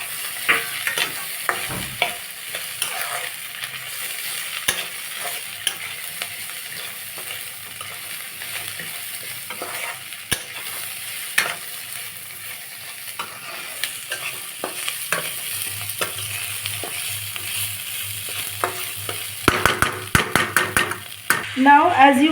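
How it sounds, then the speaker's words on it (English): Cashews and raisins frying with softened onion in a pan, a continuous hiss of oil with frequent spoon scrapes and taps against the pan, close and moderately loud throughout. "Now I am going to add the kaju and the kishmish."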